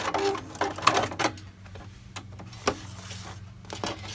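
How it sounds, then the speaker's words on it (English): A sewing machine stitching strings onto foundation blocks for a quilt runs in short mechanical bursts, then quieter clicks and taps follow, with the foot pedal triggering the thread cutter. "one of the benefits of this machine is I've set my foot pedal up, so when I put my heel down on it, it automatically will cut the thread for me."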